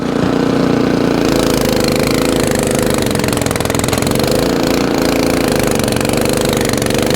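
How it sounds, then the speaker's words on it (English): An Ariens Compact 24 snowblower churns through heavy wet snow, its engine droning loud and constant under load with a rough, laboring rumble and no pauses. "This is the stuff that plugs up your snowblower."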